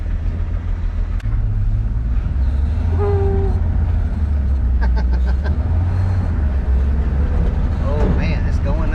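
A 1971 Chevy C10 pickup truck driving, a steady low engine rumble and road noise heard from inside the cab, continuous and fairly loud, with someone talking over it at times.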